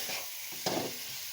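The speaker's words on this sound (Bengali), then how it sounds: "তাও দিয়ে দেবো এখন জল" Water poured into a pan of frying potato and egg curry, a soft stirring scrape followed by a brief hiss and splash as the liquid hits the hot pan.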